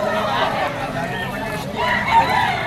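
A White Kelso bull stag rooster crows amid the steady hubbub of a busy bird market, its call partly buried under crowd noise and nearby chatter.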